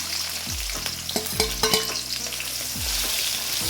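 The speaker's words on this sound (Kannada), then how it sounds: "ಇದು ಸ್ವಲ್ಪ ಗೋಲ್ಡನ್ ಕಲರ್ ಬರೋವರೆಗೂ ಫ್ರೈ ಮಾಡ್ಕೊಳ್ಳಿ" Chopped onions frying in hot oil, a constant crackling sizzle with a cluster of sharp spatula scrapes and knocks against the pan in the middle, no one talking.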